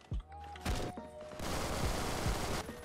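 A K14 rifle fires in Phantom Forces, an opening shot followed by a loud sustained burst of rapid gunfire with sharp repeated cracks, close and dense, with no talk.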